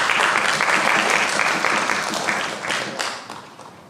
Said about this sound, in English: Let's give Danielle a round of applause.